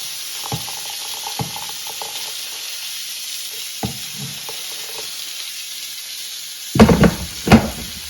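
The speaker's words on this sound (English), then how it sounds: "Let that sizzle away on its own while we prepare the" Steak sizzles in a pan with a constant hiss, broken by a few soft clicks and then two loud clattering knocks of cookware near the end, no talk.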